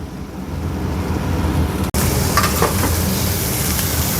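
Vegetables frying in pork fat on a camping stove at a car-camping spot in Yeongdeok, a steady dense sizzle that stays loud throughout with a brief dropout near the middle.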